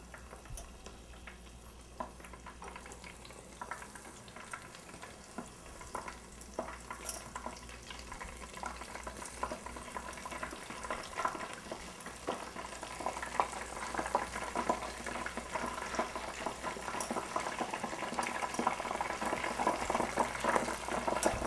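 Shrimp tempura deep-frying in hot oil, a steady crackling sizzle with scattered pops that grows gradually louder and denser over the stretch, with no talking.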